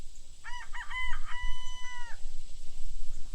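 A young rooster, the first chick hatched on a family farm, lets out a single close, clear crow lasting about a second and a half, over steady low background hum.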